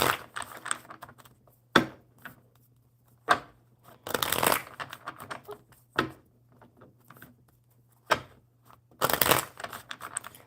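Oracle cards being shuffled in repeated short riffling bursts, each a crisp papery flutter separated by brief pauses, close and moderately loud with no talk over them.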